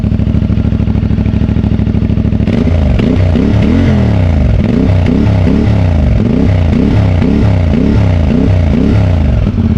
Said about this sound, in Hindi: एग्जॉस्ट इसका अपना स्टॉक ही है, बेहतरीन लगा हुआ है।